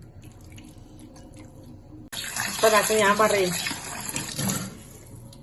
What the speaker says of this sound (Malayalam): നല്ലോണം കഴുകുക കേട്ടോ. നല്ലോണം കഴുകി എടുക്കുക.